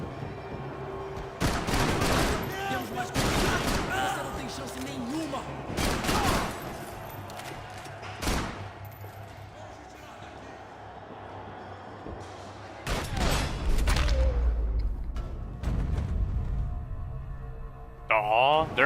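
Blind-fire gunfire in the video game Max Payne 3, bursts of rapid shots and loud booms in clustered volleys separated by quieter stretches, with game dialogue and effects between the bursts.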